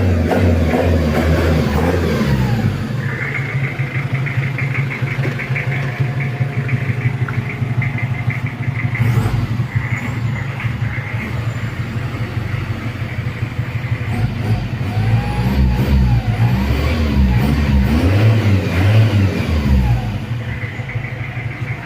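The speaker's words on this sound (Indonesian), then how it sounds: "Suaranya halus untuk suara ke turbonya." A turbocharged Mitsubishi Challenger 4M40 diesel engine runs steadily close by, its pitch swelling and falling as it revs several times over a constant low rumble.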